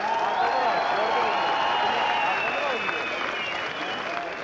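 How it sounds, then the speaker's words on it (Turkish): A concert crowd applauds and cheers at an outdoor Bodrum show, a loud sustained roar of clapping and voices under which whistling, tonal shouts weave throughout. "Alkışlar ver, alkışlar."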